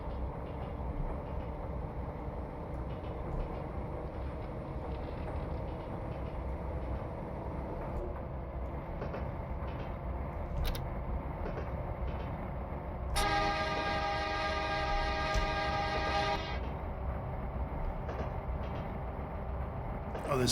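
A train called The Meteor in the Train Simulator Classic video game accelerates with a steady, loud rumble of rolling wheels and running gear. About halfway through, a sustained horn blast sounds for several seconds. Brief clicks and knocks are scattered through the run.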